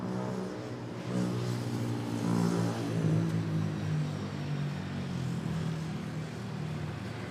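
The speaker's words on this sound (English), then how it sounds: "And we have this AirAsia taking off on runway 31." An AirAsia airliner taking off on runway 31 at Manila airport, a distant engine roar that rises in volume and pitch, peaks briefly, then settles into a steady rumble.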